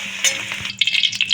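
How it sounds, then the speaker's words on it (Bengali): Two bay leaves dropped into hot oil, which is still hot from frying potatoes, for a chicken curry crackle and sizzle close up in short bursts, with a brief stir or scrape. "তো তেলের মধ্যে দিয়ে দিয়েছি দুটো তেজপাতা"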